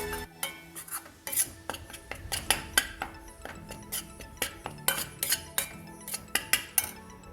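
A metal spatula stirs sukadi, a wheat-flour and jaggery mixture, roasting in ghee in a pan, producing rapid, repeated clinks and scrapes against the pan in an uneven rhythm, close and clear with a light sizzle beneath.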